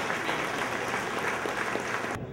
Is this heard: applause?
yes